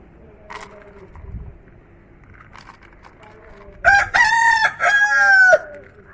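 Young chickens about a month old at feeding time, with soft clucking and cheeping early on, then a loud burst of close crowing and calls lasting about two seconds near the end.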